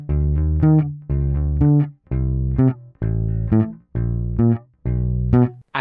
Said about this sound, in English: on the first bar we're going to put a cheeky slide in from half a step below